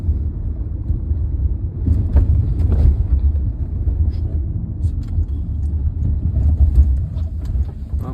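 A Peugeot 3008 driven at speed, a loud, steady low road and engine rumble inside the cabin with a few faint clicks and knocks, no talking.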